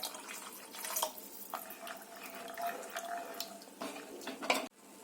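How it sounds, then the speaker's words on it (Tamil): About a glass of water poured into a pan of simmering pea masala gravy, a soft, continuous splashing trickle heard close but quietly, ending abruptly. "இந்த கிரேவிக்கு 1 கிளாஸ் அளவுக்கு தண்ணி சேர்க்குறேன்."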